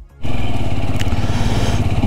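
A motorcycle rides a snowy mountain road between Shimla and Kufri in winter. The engine surges in suddenly and then holds a loud, steady, close drone, with no talk over it.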